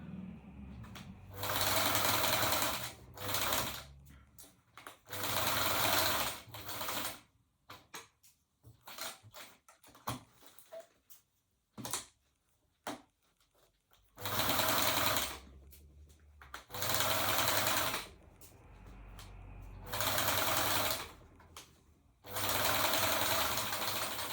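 A sewing machine stitches a drawstring bag in repeated loud, fast runs of a few seconds each, separated by quieter pauses with soft handling sounds.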